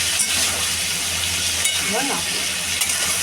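A vegetarian Bengali banana flower curry (mochar ghonto) sautés in a pan, giving a loud, continuous hissing sizzle throughout, with a faint voice briefly audible beneath it.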